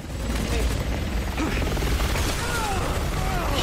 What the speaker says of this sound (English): Chopper's back to finish the job.